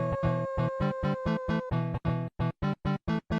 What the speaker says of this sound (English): The live performance KK does in the original Animal Forest and E+ version have an alternate intro that sounds like this.